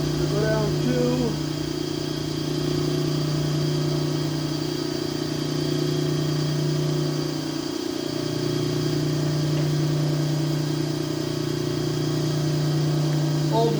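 An old machine shop cutter machining an aftermarket LS cylinder head, a loud continuous steady hum with a constant droning tone and a brief dip partway through, while a person talks over it.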